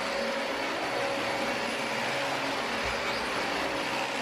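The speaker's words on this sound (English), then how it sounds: "I always vacuum my entryway and my kitchen" A vacuum cleaner runs steadily while cleaning an entryway and kitchen, a loud, continuous whooshing roar with a faint steady whine, unbroken throughout and with no voices.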